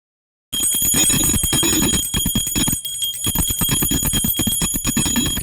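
A hand bell rings rapidly and continuously, its bright metallic clang steady and close, over a low rumble of crowd or drums, during a Gauri goddess homecoming procession at the Ganesh festival in Konkan, India.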